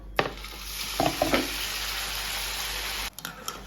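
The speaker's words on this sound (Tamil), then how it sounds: "ஸோ இப்போ இந்த இட்லி எல்லாமே பொரிச்சாச்சு" Idli pieces deep-frying in oil for idly manchurian make a loud steady sizzle with a few splashy bursts near the start, then the frying drops away abruptly near the end.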